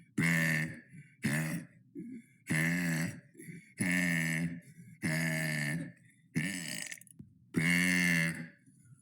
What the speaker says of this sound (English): That was day 76 of burping for 100 days.